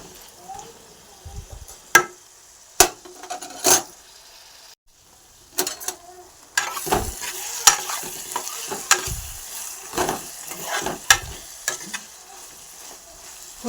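Drumstick, tomato and egg curry simmers and sizzles in a pan while a spoon stirs it, giving irregular loud clacks and scrapes against the pan over a low, steady frying hiss.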